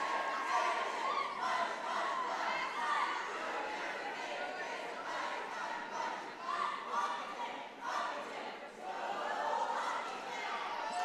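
The Ashland swim team shouts its end-of-meet cheer in an echoing pool hall, a sustained chorus of young voices yelling together with crowd chatter mixed in.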